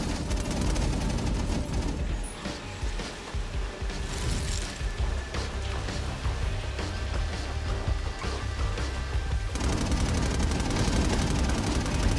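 Automated gun turrets in the Infamous Second Son video game fire continuous rapid bursts of gunfire, a dense loud barrage with booming impacts that thins briefly before resuming at full intensity.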